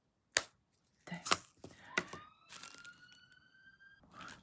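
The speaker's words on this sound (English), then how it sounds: "that's the second ambulance going past today that I had to pause for" A faint ambulance siren wail rises in the background as it passes, preceded by a few sharp clacks and knocks nearby.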